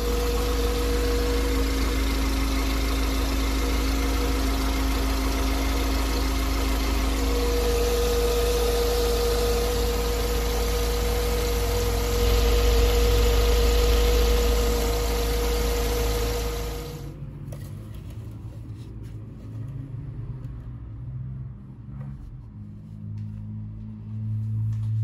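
A VW Saveiro Robust engine idles steadily after an oil change, a continuous mid-pitched hum with a high whine, then the engine cuts off and only faint background noise remains.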